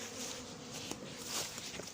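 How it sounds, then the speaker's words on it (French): A swarm of honeybees streams out of an apiary hive after sugar feeding, a faint, steady buzzing hum with a few soft ticks, heard at low level with no voices. "Donc là on a droit à une petite sortie d'abeilles."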